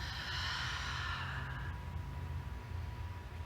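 A long audible exhale during a yoga flow, a soft breathy rush of air lasting over a second and then fading into quiet room tone.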